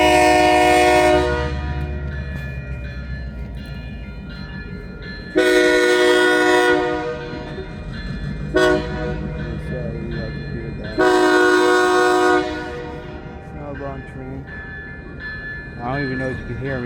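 A train horn blares in long harmonic blasts, two big ones and a shorter one, over a low rumbling rail noise with a faint bell-like tone.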